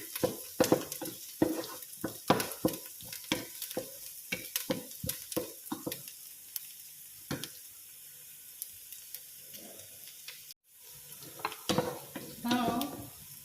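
Carrots and potato are stirred in a pan, with a run of sharp scraping clinks and soft sizzling, a pause, then a few more stirring knocks near the end, close and moderately loud.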